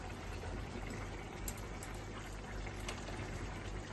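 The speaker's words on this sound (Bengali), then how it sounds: "একটা পাত্রে ঢেলে দেখাচ্ছি।" A cooked dish is poured from the pan into a bowl, a soft continuous liquid gush with faint sloshing, quiet and close, with no talking.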